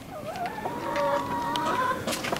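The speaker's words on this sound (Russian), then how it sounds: "пойдем кормить курей" A group of hungry hens clucking and calling near a farmyard as they wait for their breakfast feed, a busy overlapping chorus of bright, warbling clucks that stays close and fairly loud throughout, with no talking.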